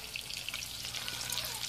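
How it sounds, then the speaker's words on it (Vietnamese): Salted silver carp fries in a pan with a steady, dense sizzle and crackle of hot oil, close and continuous with no one speaking. "Chiên cá lên ăn cá nãy."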